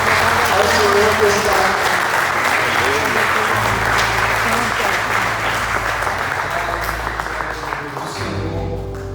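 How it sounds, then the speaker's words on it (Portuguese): A church congregation gives sustained applause, a dense wash of clapping that fades slightly toward the end, with a voice speaking briefly over it. "Você pode aplaudir mais uma vez ao Senhor"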